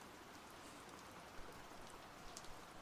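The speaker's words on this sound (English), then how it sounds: "The rain is fine though, because it's like a constant pour." Steady, constant pouring rain falls alone with no voices, a dense even wash of drops drumming on a surface and a few slightly louder drips standing out now and then.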